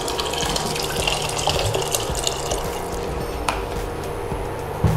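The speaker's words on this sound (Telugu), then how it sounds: "ఇలా చికెన్ బాగా వేగిన తర్వాత దీంట్లో కొద్దిగా వాటర్ యాడ్ చేసుకోవాలి" Water runs steadily from a tap into a pan of frying chicken for Hyderabadi chicken haleem, a continuous close splashing pour with a small clunk near the end.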